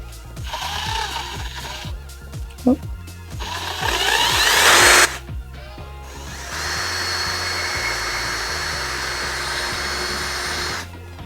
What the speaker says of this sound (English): And then take my drill.